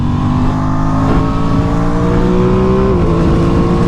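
A 2023 Aprilia Tuono 660 Factory motorcycle pulls hard at highway speed, its engine note climbing steadily in a loud, close drone, with a brief dip as it shifts near the end and wind noise underneath.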